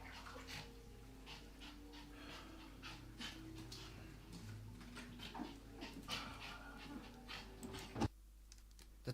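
Dogs pant quickly and rhythmically close by, with a faint whimper in a quiet indoor room near a bath, under low background hum.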